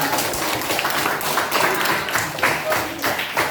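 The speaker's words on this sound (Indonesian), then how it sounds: "Kasih tepuk tangan dulu, Pak." A class claps hands in applause in a primary school lesson, a moderate burst of many overlapping claps, fairly near and continuous, with some voices mixed in.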